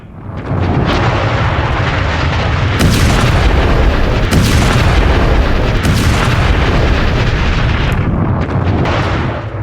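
Blasts from explosives laid in underground tunnels by the Israeli army, a loud continuous roar of booming rumble with several sharp bursts cutting through, sustained for nearly ten seconds with no talk.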